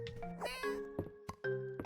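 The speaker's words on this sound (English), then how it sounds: "Alright, kitty cat, what'd you get for us today?" A cat meows in the Fields of Mistria farming video game, with several clear, close meows repeating in a quick series and no talk over them.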